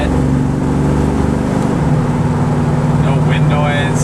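A 1972 Ford Gran Torino Sport Fastback cruising on the road, with a steady low engine drone and road rumble throughout, shifting slightly in tone partway through, and a few faint higher tones above.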